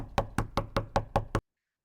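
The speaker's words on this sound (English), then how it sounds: "There was a knock at the door" Seven even, sharp knocks rap on a door in quick succession, close and clear, followed by silence.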